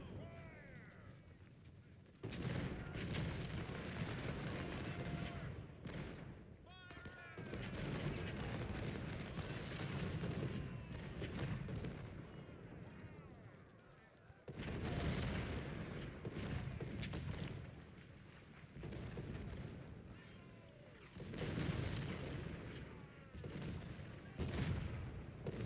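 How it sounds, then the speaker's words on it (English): Cannon fire booms in repeated rumbling bursts in the Civil War strategy game Ultimate General: Civil War during a Confederate campaign battle, heavy volleys rolling and fading in waves with quieter gaps between. "Just a hot gaping hole where a crater where our poor old cannons obviously get bombarded"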